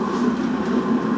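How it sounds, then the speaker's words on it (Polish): A train rolls past, a steady low rumble with a sustained mid-pitched hum and faint rhythmic clatter, close and continuous with no talking. "pociąg jedzie."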